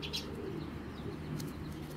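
A black checker racing pigeon coos softly and briefly at close range, a low murmur against faint background noise with no talk.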